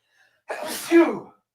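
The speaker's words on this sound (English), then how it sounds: "I'm about to sneeze." A single close, loud human sneeze bursts out after a moment of silence and trails off within about a second.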